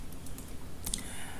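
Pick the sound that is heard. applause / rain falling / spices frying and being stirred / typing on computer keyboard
typing on computer keyboard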